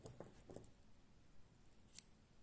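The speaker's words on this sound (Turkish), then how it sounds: "Şu kahverengi ipimi şuradan keseceğim." Scissors snip through brown yarn during crochet sweater work, a faint, quiet cut with a single crisp click near the end.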